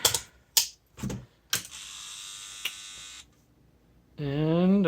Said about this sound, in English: I heard the stepper motor zero out right away